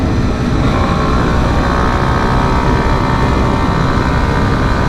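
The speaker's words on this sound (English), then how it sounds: "it's full throttle everywhere, and then the bike manages to do it" A 2019 Kawasaki Z125 motorcycle engine runs at full throttle, a loud, constant roar heavily mixed with wind rush, sustained without a break.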